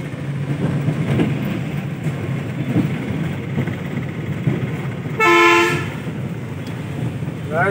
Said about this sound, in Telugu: heavy sound horns